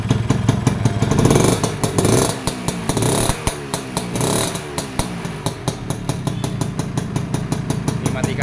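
A Yamaha V80 80 cc motorcycle engine runs close up, loud and rough with a rapid two-stroke popping rhythm that rises briefly then settles into a steady idle.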